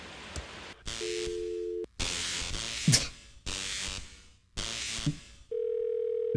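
In the video game Thimbleweed Park, a telephone receiver plays steady dial-tone hums broken by bursts of static hiss and clicks, ending on a sustained tone.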